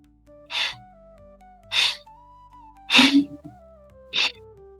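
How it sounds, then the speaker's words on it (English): Four sharp, forceful nasal exhalations of Kapalbhati breathing, evenly spaced and close, over a soft sustained background tone with no speech. "10 forced exhalations followed by a deep inhale and exhale"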